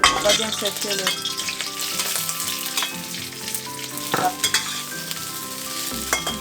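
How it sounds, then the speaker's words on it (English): Shrimp frying in oil in a pan before making pad thai, a steady close sizzle with scattered clinks and scrapes of stirring, no voices. "Before we cook pad thai, we have to cook the shrimp first."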